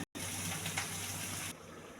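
Water gushes steadily into a cooking pot while sambar is made, a close, continuous pour that stops abruptly, leaving a quieter trickle.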